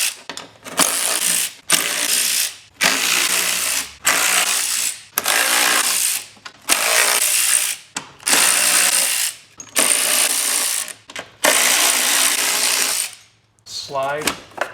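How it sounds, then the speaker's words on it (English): A ratchet with a 10mm socket removes bolts from a black plastic shroud on a Porsche 996 Turbo. Close, loud bursts of rapid clicking, roughly ten separate runs with short pauses between, and no talking. "We're going to use our 10mm socket to remove all of these bolts that are holding this black plastic shroud in place"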